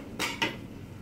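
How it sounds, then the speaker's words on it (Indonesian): Ingredients are stir-fried in hot oil in a pan while cooking chicken in tom yum broth with green beans. Two brief bursts of sizzling and clatter are heard close by against a quiet kitchen background. "Panaskan minyak, lalu kita masukkan, kita tumis sampai harum."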